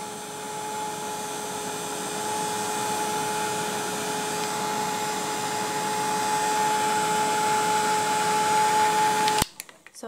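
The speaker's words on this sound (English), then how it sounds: "Sorry, I was talking with the heat tool on." Heat tool blowing steadily on craft card to dry embossing ink, a continuous close whirring hum with a faint whine that cuts off abruptly near the end.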